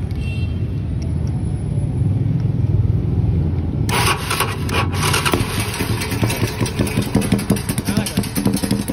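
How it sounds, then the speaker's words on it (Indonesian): A Yamaha Scorpio chopper motorcycle with a full chrome build is push-button started, its engine catching partway through and then settling into a loud, throbbing idle close to the microphone with no talk. "kita langsung aja cek sound motornya John"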